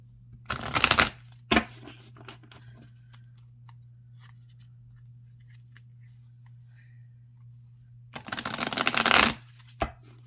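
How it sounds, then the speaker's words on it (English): Two brisk bursts of tarot cards being shuffled, near and crisp, separated by a long quiet stretch with a low steady hum underneath. "Just seeing different decks just shuffle over and over and over."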